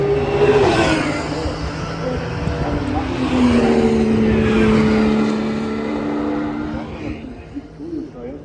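A Porsche race car passes on the Nürburgring, its engine rising and sweeping by at moderate distance, with a voice talking over the sound of the track.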